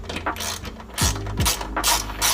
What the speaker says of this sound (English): Tighten up these screws.